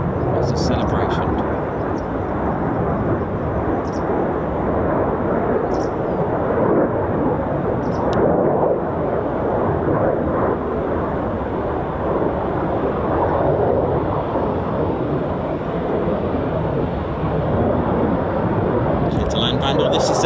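Eurofighter Typhoon FGR4 of 12 Squadron coming in to land at RAF Coningsby, a loud continuous jet roar that rumbles steadily throughout with faint chirps on top.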